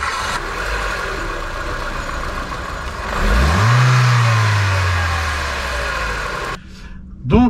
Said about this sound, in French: Donc nous voici partis au volant de la Clio 3 GT.